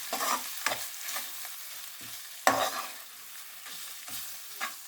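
Masala powders, including cumin powder and garam masala, fry in oil in a pan for brinjal gravy, giving a soft continuous sizzle broken by a few sharp, close spatula scrapes, one louder midway.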